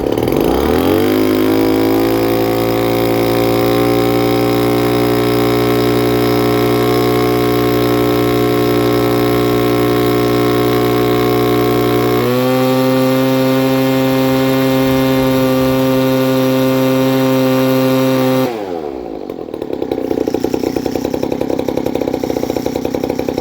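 Poulan leaf blower fitted with a modified exhaust runs steadily at close range, about five or six feet away, with a loud buzzing two-stroke drone that drops in pitch partway through before cutting out near the end.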